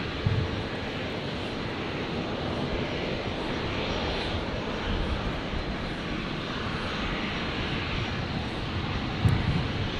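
A steady, broad roar from an Air Niugini airliner, a 32 to 33 year old airframe, arriving at Brisbane from Port Moresby and landing on runway 19 right, holding a fairly even level throughout.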